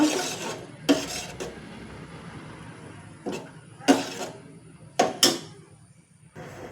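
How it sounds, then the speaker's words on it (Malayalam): Stirring sambar in a cooking pot, heard as a few sharp spoon-on-pot clinks and scrapes spaced irregularly over a soft background hum, with no talking. "ഇപ്പോൾ അത് മുഴുവൻ ഞാൻ സാമ്പാറിലേക്ക് ഇട്ടിട്ടുണ്ട്. ഇളക്കി കൊടുക്കുക."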